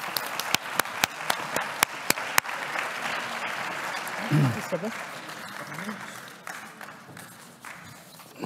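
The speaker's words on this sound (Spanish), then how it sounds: "Un fuerte aplauso." Clapping at a conference as people are called up to the stage: a few sharp, separate claps first, then a spread of crowd applause that thins out, with voices murmuring underneath.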